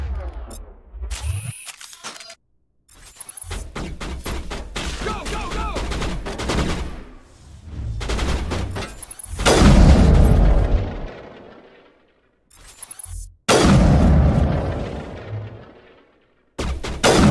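Heavy gunfire and booming blasts in the video game Mass Effect: Legendary Edition, loud bursts separated by sudden silences, with a voice speaking briefly between them.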